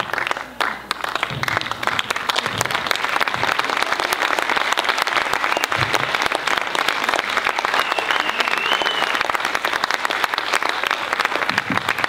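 Sustained crowd applause, many hands clapping steadily and loudly for the whole stretch, with a brief whistle rising above it.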